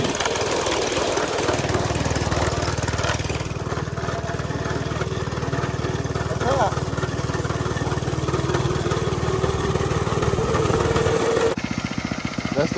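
A go-kart engine revving steadily during mini drifts at night with no headlight, a loud, constant buzzing drone close up that drops off sharply near the end.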